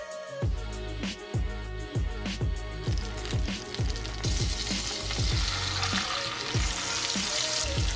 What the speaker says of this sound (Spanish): Ahorita estoy friendo la tilapia.